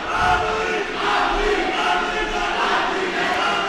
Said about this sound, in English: Creek Craze doing the I Believe cheer with just over 2 minutes to go